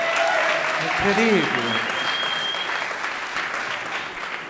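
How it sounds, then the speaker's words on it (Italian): Loud audience applause at a comedy show, dense continuous clapping from a crowd that slowly tapers, with a brief spoken voice and whistle-like tones over it. "Facciamo un applauso."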